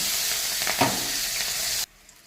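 Chopped onion hits hot oil already spiced with cumin and split bay leaf, raising a loud, steady sizzle with a brief sharper flare near the start. It cuts off abruptly into near silence.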